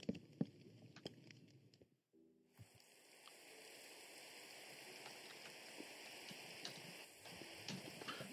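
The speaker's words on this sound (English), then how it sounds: "Well, I'll get rid of the rain." Rain falls in the video game Minecraft, a soft steady patter that fades in after a short gap and continues evenly, faint and close, with scattered clicks early on.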